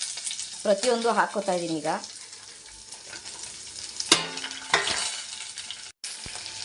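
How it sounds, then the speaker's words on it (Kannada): Grated coconut and tomato frying in a pan give a soft sizzle with occasional stirring clatter, while a person speaks over the opening seconds and again later. "ಫ್ರೆಂಡ್ಸ್, ಇದೆಲ್ಲ ಚೆನ್ನಾಗಿ ಫ್ರೈ ಆಗಬೇಕು."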